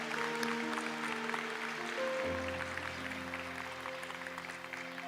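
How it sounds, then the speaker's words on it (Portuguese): Soft, distant applause from a church congregation during a sermon, faint, steady clapping beneath sustained organ or keyboard chords. "Pode aplaudir"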